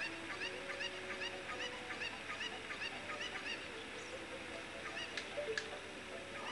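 Repeated clucking and honking calls from cuccos, the chickens in the Zelda Ocarina of Time video game, a steady run of bird calls over a busy game background with no talk.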